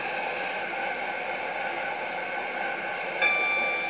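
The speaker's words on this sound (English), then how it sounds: "This train is now approaching Stepford East." A steady, quiet rumble and hiss of a video game train running as it approaches a station, with a brief tonal whine appearing near the end.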